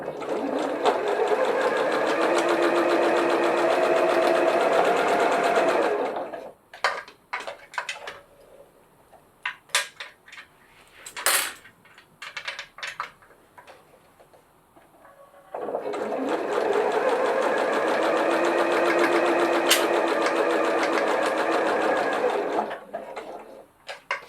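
Sewing machine stitching a glasses case, running in two steady stretches of rapid rhythmic whirring, separated by a pause filled with clicks and handling noises, close by.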